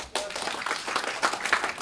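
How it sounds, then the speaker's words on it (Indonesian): A short, faint burst of clapping from a small group, with a murmur of voices beneath. "oh keren, tepuk tangan tuh"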